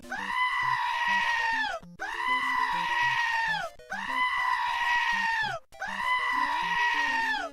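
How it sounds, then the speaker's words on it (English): Goats bleat loudly and close by in four long, wavering calls, each held about two seconds and separated by brief gaps, with no talk over them. "You heard the goats loud and clear?"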